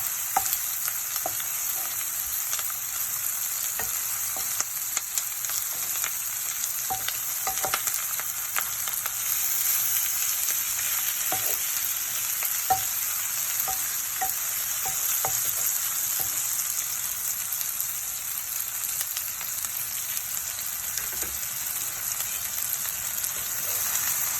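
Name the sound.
onions and chillies frying in a pan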